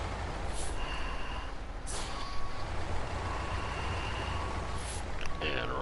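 A heavy truck in SnowRunner on PS4 lets off its parking brake with loud air-brake hisses and rolls away, its steady engine rumble filling the whole stretch.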